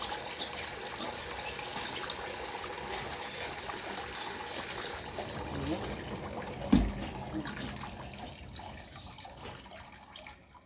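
Water trickles steadily into a potted Aglonema as it is watered during repotting, a soft continuous flow heard close up with one brief thump midway before the trickle fades slightly.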